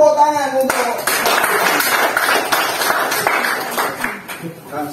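An audience at an anti-corruption training session in North Kalimantan claps together, a burst of fairly close, dense applause lasting a few seconds after a brief voice at the start, then tapering off.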